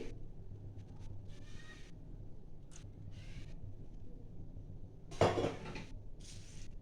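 A wok set on a kitchen stove before oil goes in: a single loud metallic clunk and scrape partway through, surrounded by lighter clinks and rattles of pans and utensils over low room noise.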